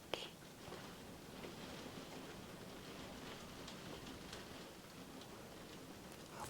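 Steady rain falls outside during a quiet indoor eye-exam setting, a faint, continuous patter with scattered ticking drops and no voices.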